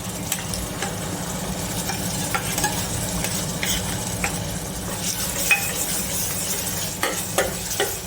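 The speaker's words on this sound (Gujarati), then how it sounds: "તો આપણે હવે આ ગ્રેવી એમાં નાખી દઈશું" Gravy poured into a frying pan of namkeen mix and gathiya, stirred steadily with a utensil over continuous close sizzling, with occasional metallic scrapes and clinks against the pan.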